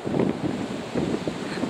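Gusty wind blowing through garden trees during Storm Ellen, a steady broadband roar with swelling gusts, close to the microphone and buffeting it, with no voices.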